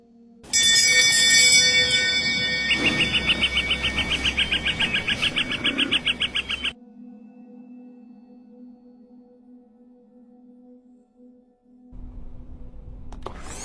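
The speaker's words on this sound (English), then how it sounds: "I found this bell in a forest. What will happen when I ring it?" A bell rung in a forest gives a bright, sustained metallic ringing with a shimmering, wavering pulse for about six seconds. It then cuts off abruptly into near silence, with a faint low rumble returning near the end.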